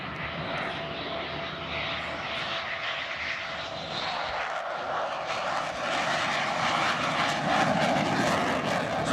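A light aircraft runs its propeller engine while taxiing on a big grass airstrip, a steady droning roar that builds slightly louder toward the end, with no voices over it.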